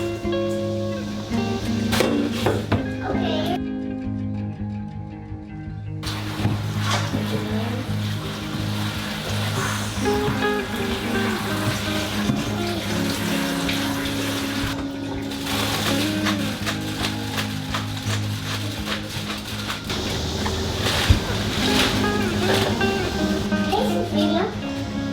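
Tap water runs steadily over freshly picked garden broccolini as it is washed, a continuous rushing hiss heard under ongoing talk.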